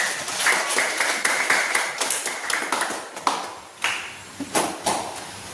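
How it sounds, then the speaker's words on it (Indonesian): Classroom applause for a student group, a burst of claps and taps that thins into scattered single claps and knocks toward the end, fairly close and with no talking over it. "sekarang kita kasih tepuk tangan untuk kelompok 3"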